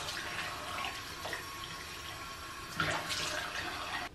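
Tap water runs steadily into a bathroom sink as a face is rinsed, a close broadband splashing that swells briefly midway and again near the end.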